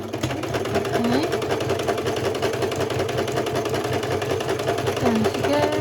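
A sewing machine stitches a fabric bookmark with a fast, steady mechanical whir and rapid needle chatter running throughout, close and even, with brief slowing moments.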